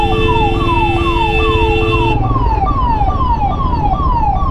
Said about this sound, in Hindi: भैया उधर हो जाओ, एम्बुलेंस आ रही है